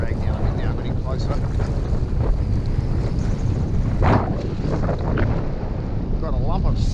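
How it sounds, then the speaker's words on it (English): Strong wind roars steadily across the microphone on a small fishing boat off Sydney during bream fishing, a dense rushing buffet with a louder gust partway through and faint water sounds beneath. "Windy, that's for sure."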